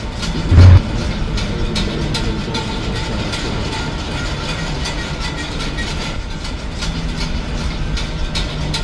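An Amtrak high-speed passenger train bound for Boston South Station runs with a steady, loud rumble and rhythmic rail clatter throughout, plus a short louder thump near the start.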